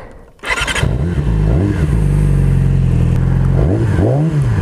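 A Yamaha R6 motorcycle with an aftermarket exhaust fires up and idles loudly with a deep, throaty, uneven rumble and a couple of brief blips of throttle, recorded close.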